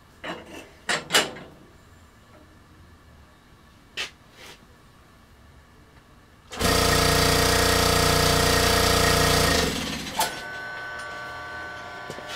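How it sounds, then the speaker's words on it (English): A vacuum pug mill processing clay starts up after a few clunks and bumps, then runs with a loud, steady mechanical drone and whine for about three seconds before dropping to a quieter hum. "I'm getting ready to turn on the vacuum"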